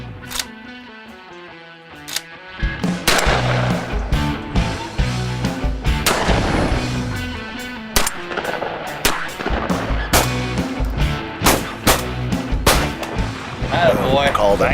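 Shotguns fire during a bird hunt, a run of sharp, loud blasts spaced every second or so over roughly fifteen seconds, set against outdoor background noise and occasional voices.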